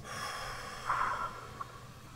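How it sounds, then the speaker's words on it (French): One quiet breath during a guided breathing exercise: a short, audible rush of air is drawn and released near the middle, with a small puff after it, against a soft room hush and no speech. "on va faire une respiration et on relâche"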